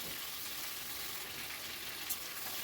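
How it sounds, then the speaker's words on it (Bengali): Marinated elephant foot yam fries and gets stirred in hot oil over a high flame, giving a steady, dense sizzle that stays loud and even throughout, with no voices. "এবার আমি এটাকে একটু নাড়াচাড়া করে একটু ফ্রাই করে নিচ্ছি।"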